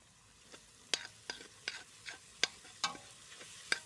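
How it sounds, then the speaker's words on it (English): Onions stirred as they fry and brown in a pan alongside mushrooms, outdoors in a field on a gas burner: a soft sizzle under sharp, regular scraping clicks from the utensil, close and moderately quiet. "Onion browning nicely."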